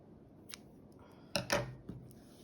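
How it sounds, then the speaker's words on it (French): Scissors snip crochet yarn in a quiet room, with a light click followed by a couple of crisp, close cutting snaps. "Je vais garder du fil pour la couture et couper."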